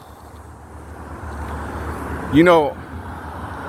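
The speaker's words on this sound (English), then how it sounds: "apologize about the noise in the background with the road and the traffic" Someone talks over a low, steady rumble of road traffic passing in the background, with a constant distant hum of cars beneath his voice.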